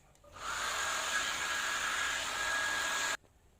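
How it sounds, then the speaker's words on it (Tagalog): A blow dryer runs on a two-month-old Shih Tzu puppy's fur, a steady airy whoosh with a thin whine that switches on, holds for nearly three seconds, then cuts off abruptly. "I-blower po natin siya."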